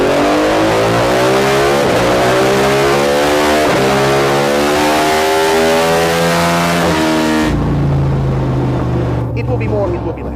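A Ducati Hypermotard 950 with an aftermarket exhaust and filter revs hard and loud through rising gears, its engine note climbing repeatedly before suddenly dropping back to a lower idle, with people talking nearby.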